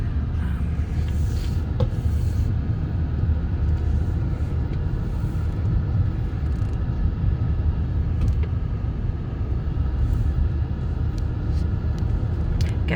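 Car interior on the drive from First Water trailhead to Acacia recreation area in Lost Dutchman State Park at sunset, a steady low road rumble and engine drone holding evenly throughout with faint occasional knocks, no talking.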